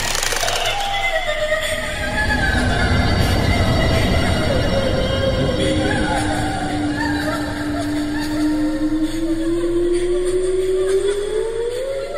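A train rolls past near the Paledang tunnel in Indonesia with loud rumbling and long screeching wheel squeals that rise and fall, steady throughout with no voices.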